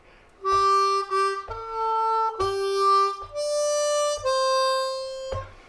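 A C harmonica in first position, lower octave, plays a line of "Happy Birthday" with draw and blow notes, six sustained tones in a slow steady rhythm, close and clear with no talking.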